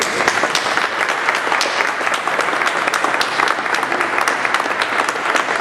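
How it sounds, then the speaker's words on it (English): Audience applause at a VIP reception for the Cleveland Marathon at the Hyatt Regency, with a room full of people clapping loudly and steadily, close and continuous with no break, and no talking over it. "So I want you all, first of all, to give them an applause"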